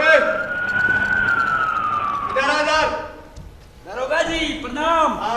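A police car siren sounds as the vehicle arrives in a staged play. One loud wail slides slowly downward and fades, then voices talk over the scene.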